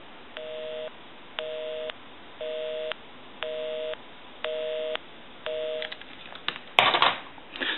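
A Western Electric 2554 Mini Wall telephone plays a busy signal: six even, evenly spaced beeps in a steady on-off rhythm, ending in a brief clatter of handset noise.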